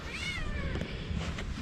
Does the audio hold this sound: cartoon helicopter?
no